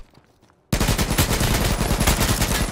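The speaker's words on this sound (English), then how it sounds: "I'm gonna shoot him, Blake. He's standing still." Rapid automatic gunfire in H1Z1 erupts abruptly after a short quiet lead-in, a loud, close, evenly spaced stream of shots continuing to the end.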